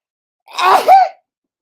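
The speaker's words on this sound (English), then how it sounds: "The dogs are barking because I sneeze." A single loud, close sneeze with a strained, voiced two-part shape, rising then dropping, in otherwise total silence.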